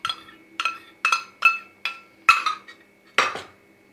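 A metal spoon clinks against a bowl while mixing yogurt with gram flour and spices for dhaba-style paneer bhurji, a series of about seven sharp, evenly spaced taps up close with no talking.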